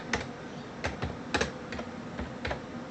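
Keys clatter on a computer keyboard in an irregular run of close, crisp clicks with small gaps between bursts, and no voices.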